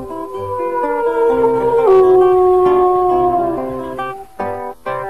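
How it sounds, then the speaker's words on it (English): Several wolves of a pack on Isle Royale howl together in long, overlapping, wavering tones, with occasional yips, echoing as if from a distance. "occasionally visitors hear the far-off howl of the wolf pack"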